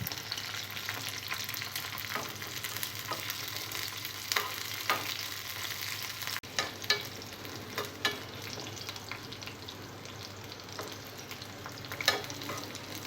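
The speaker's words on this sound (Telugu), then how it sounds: "పచ్చిమిరపకాయలు కొద్దిగా ఫ్రై అయిన తర్వాత ఇందులో వెల్లుల్లిపాయలు వేసుకోవాలి." Garlic and green chillies fry in oil for a gongura garlic chutney, giving a soft, continuous crackling sizzle with scattered pops and occasional stirring, close but quiet, with no talk.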